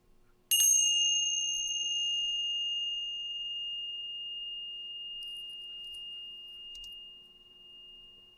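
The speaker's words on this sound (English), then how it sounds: "I'm going to use my beautiful little Tibetan bells to get us started." A single bright strike of small Tibetan bells rings out clearly, its pure tone sustaining and slowly fading over several seconds, with faint soft clinks later, opening a live meditation concert.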